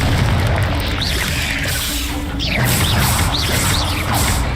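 A Confringo blasting spell explodes in Hogwarts Legacy, a loud crashing burst within a dense, sustained wash of combat effects, with whooshing sweeps layered on top.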